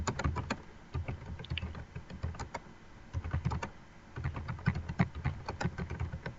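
Typing on a computer keyboard, close and clear: rapid irregular bursts of clicking keystrokes with brief pauses, alone without talk.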